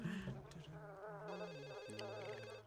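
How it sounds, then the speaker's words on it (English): A telephone rings in The Sims on PS2, a repeating electronic trill under a man's speech and game music, moderately loud. "Oh, God, the phone's ringing."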